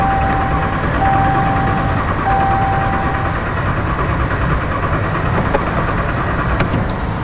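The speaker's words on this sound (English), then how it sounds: "We're going to do the same thing where we hold the throttle wide open and we do an extended crank." A 2011 RAM 2500 with the 5.7L engine and a misfire cranks for an extended stretch with the throttle held wide open, a loud, steady, close starter-and-engine drone without a catch.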